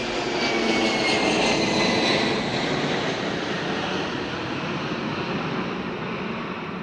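An airplane passes overhead in Japan, giving a broad, loud roar that swells early and then fades slowly, with no voices over it.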